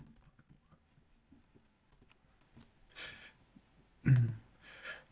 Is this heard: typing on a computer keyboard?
yes